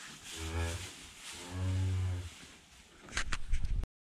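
Cattle moo inside a barn with fresh bedding: two long, low, drawn-out moos at moderate distance, followed by a brief burst of clattering knocks.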